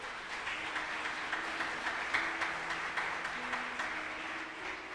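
A church congregation claps during a sermon, a faint, distant patter of many hands that stays even and low throughout.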